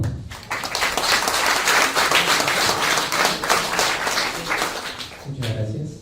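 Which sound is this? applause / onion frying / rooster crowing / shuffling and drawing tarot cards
applause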